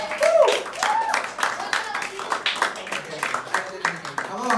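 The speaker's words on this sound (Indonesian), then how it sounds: "Nah, ayo kita tepuk tangan buat teman kita." An audience claps for a child volunteer at a church sermon, a dense, steady patter of hands lasting several seconds, with voices talking over it.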